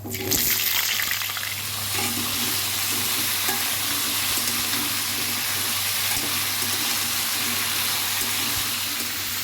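Cut squash hits hot oil tempered with cumin seeds, producing a sudden loud burst of sizzling that settles into a dense, continuous close frying hiss with faint stirring.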